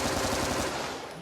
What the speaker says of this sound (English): Hit the gunshots!